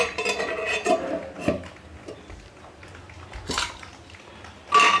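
A metal pressure cooker lid is handled and closed, giving several sharp clanks and scrapes against the pot, separated by short quiet gaps, close and fairly loud.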